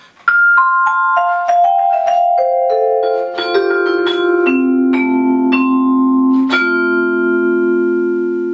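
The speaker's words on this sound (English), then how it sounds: "The jazzy vibraphone." Vibraphone played solo, its mellow struck metal bars stepping through a descending then rising run of notes that overlap and sustain with a soft shimmer, close and fairly loud.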